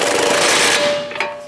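A power tool tightens the upper ball joint nut on a 2011 or later Dodge Durango front control arm. It makes a loud, close buzzing rattle that holds steady, then tapers off with a brief final burst.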